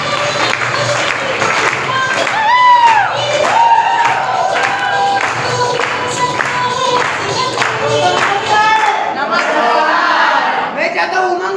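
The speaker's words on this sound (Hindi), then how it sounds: "एक बार जोरदार ताली के साथ।" A large crowd applauds loudly and steadily at a gathering, dense clapping running the whole time with cheering voices and shouts mixed in.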